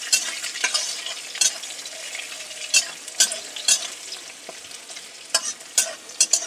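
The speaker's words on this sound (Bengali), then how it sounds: "একটু নাড়াচাড়া করে নেই।" Boiled chickpeas stirred with fried garlic in a pan, spatula scrapes repeating irregularly over a steady close sizzle, with no voices.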